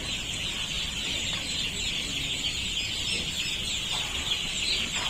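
Chicks and chickens on a poultry farm during the first week of brooding make a continuous dense chorus of chirps and clucks, steady and fairly loud throughout with no talking.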